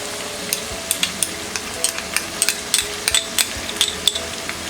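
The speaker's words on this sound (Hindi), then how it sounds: "अब हम इसमें डालेंगे ये जिंजर गार्लिक पेस्ट" Ginger garlic paste stirred into a softened onion-tomato masala in a pan, a steady sizzle broken by sharp spoon taps and scrapes against the pan in an irregular rhythm, with no speech.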